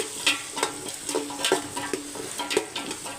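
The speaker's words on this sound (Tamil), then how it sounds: "வெங்காயம் பாதி வதங்கினா போதும்" Small onions sautéing in a pan, with a soft, steady sizzle broken by regular scraping stirs that come roughly every half second, close and fairly quiet, with no voices.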